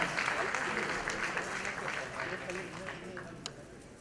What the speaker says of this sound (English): let's give everyone a round of applause, ladies and gentlemen